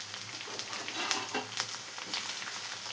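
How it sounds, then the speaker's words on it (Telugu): Chopped tomatoes frying in a pan for a Karnataka-style uggani, a steady soft sizzle with occasional crackles and stirring sounds, fairly quiet and close. "టమాటాలు వేసాం కదా, ఇప్పుడు ఈ టమాటాలు కూడా కొంచెం వేగాలి."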